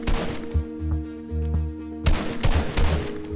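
Rapid bursts of gunfire from a player trying out a gun in a video game, likely a pump shotgun, with several loud close shots and punchy thumps spaced over a few seconds under continuous game background sound.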